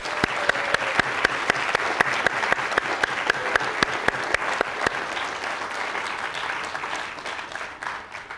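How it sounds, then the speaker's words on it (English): A warm round of audience applause at a student awards ceremony, dense continuous clapping with a few sharp, distinct claps standing out, sustained for several seconds and tapering slightly toward the end. "Could we give a warm round of applause to everyone?"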